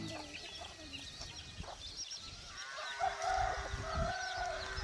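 Free-range country hens and roosters on a small village farm cluck and call in the background, faint to moderate, with scattered bird sounds and general outdoor ambience.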